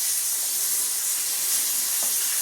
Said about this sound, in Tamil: இந்த தக்காளி வந்து நல்லா வதக்கி விட்டுக்கலாம்